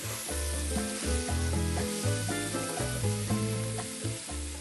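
Sweet red pepper fries in oil in a pan over lowered heat, giving a steady close sizzle that swells and eases as it is stirred, with no talking.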